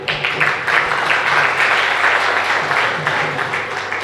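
An audience at a religious discourse in Parasia claps, giving steady, dense applause that stays loud and close for several seconds.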